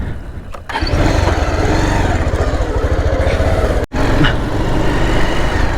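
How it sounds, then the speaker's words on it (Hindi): Repaired motorcycle engine, fixed after a gear lever problem, idles loudly and close with a steady low rhythmic thump, one brief dropout partway through. "फाइनली हमारी बाइक ठीक हो चुकी है, एकदम मक्खन चल रही है।"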